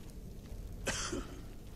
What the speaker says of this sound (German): Oh, da hustet aber jemand.